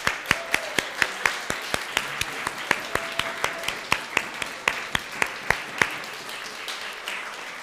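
Church congregation applauding the people who helped, a sparse irregular clapping of many hands at moderate distance, lasting several seconds in a quiet room with no voices.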